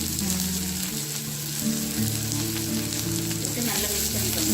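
Chopped onion and a green chilli frying in oil in a kadai, giving a steady, close, dense sizzle that runs unbroken throughout, with no voices over it.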